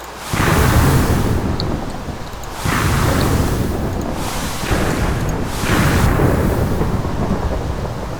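Thunder rolls from lightning summoned into a rainstorm in a video game, three loud successive booming rumbles about every two and a half seconds over steady rain hiss, with no voices.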